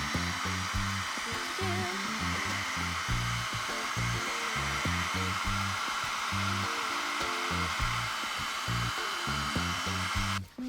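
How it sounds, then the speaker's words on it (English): A blow dryer runs steadily up close, heating wax on a Breyer model horse, its whirring motor hum continuous with slight wavering before cutting off abruptly at the end. "So I have my blow dryer"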